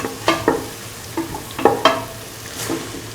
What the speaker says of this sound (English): Salt and mix the onion puree or onion paste